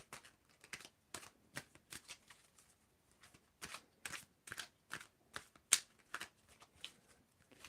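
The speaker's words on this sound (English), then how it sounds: "whenever you want me to stop shuffling, I will stop shuffling" Tarot deck shuffled by hand in a quiet room: a long run of crisp, close card slaps and riffles coming in uneven bursts with brief gaps between them.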